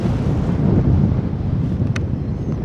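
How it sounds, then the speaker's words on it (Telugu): Heavy, continuous wind buffets the microphone with a deep low roar while paragliding in Pokhara, Nepal, broken by a brief faint high click near the end. "గాలి బాగా వస్తుంది"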